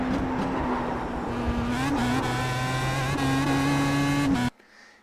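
Pro Mazda race car engine at Imola in the iRacing simulator, droning loudly and steadily at high revs with a brief pitch shift as gears change, then cutting off abruptly near the end.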